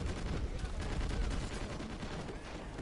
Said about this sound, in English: You got a problem? Use your rocket launcher.